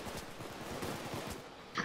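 Gunfire in the heist video game PayDay 2: a quiet, continuous stream of rapid shots that ends with a sharper, louder burst, heard alone without talk.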